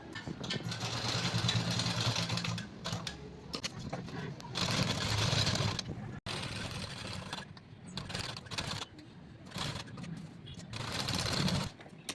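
A sewing machine runs in steady bursts, stitching a blouse lining onto saree fabric for a wedding outfit. The motor drones close and loud, with several brief pauses between runs.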